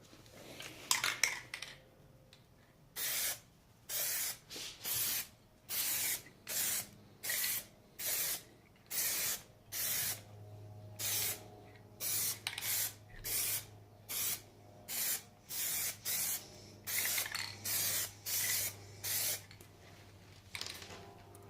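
Plasti Dip aerosol can sprays a light coat onto car rims or tail lights in a run of short, even bursts, each a sharp close hiss with brief gaps between, after a few opening rattles.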